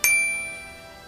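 A single bright notification bell ding rings out at the start, then fades slowly as a sustained metallic ring with no talk.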